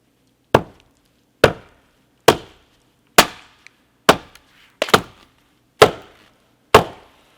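A froe is driven with a 4-pound sledge to split spruce shakes, making eight sharp, loud wooden cracks spaced roughly a second apart, each dying away quickly, with near silence between blows.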